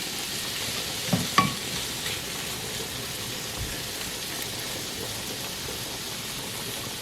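Shrimp fry in a hot pan with a steady, close sizzle throughout, broken by a couple of sharp clinks early on as the pan or utensil is touched.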